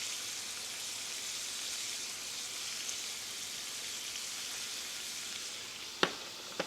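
Onion and vegetables for lo mein fry in a pan with a steady, hissing sizzle at moderate loudness. Two sharp clinks of a utensil on the pan come near the end.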